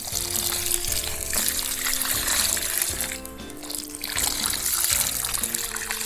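Water carried in a bucket at a country home is poured out in a continuous splashing, trickling stream, loud and close.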